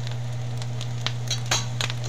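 Carrots and radish sauté in a hot pan, giving a soft continuous sizzle with scattered crackles and pops under a steady low hum, likely from a nearby exhaust fan.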